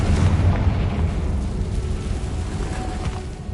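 A Confringo explosion spell from a Harry Potter video game bursts in a loud, sustained rumbling boom that rolls on without a break and fades only slightly over a few seconds.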